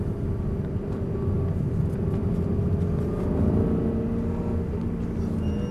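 A car pulls out of a corner under acceleration during a track driving lesson, its engine a loud, continuous, rumbling drone that holds steady throughout.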